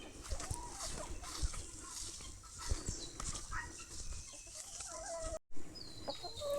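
Backyard chickens cluck and murmur softly nearby in a steady, busy chatter, with no one speaking.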